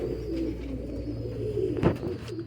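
Lakha pigeons coo in a steady, low, rolling murmur from several birds close by, with a brief rustle partway through.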